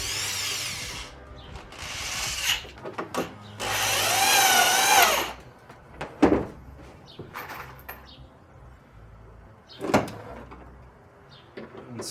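A power drill driving screws into wood whirs in several short bursts, one longer run, between clunks and knocks of handling, close and fairly loud.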